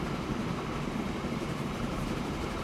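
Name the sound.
train sounds from the video game Train Fever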